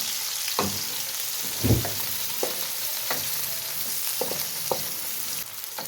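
Chopped onions hit hot oil in a pan for a home-cooked potato and pea curry, giving a steady frying sizzle broken by a few sharper clatters and stirs, close and without talk.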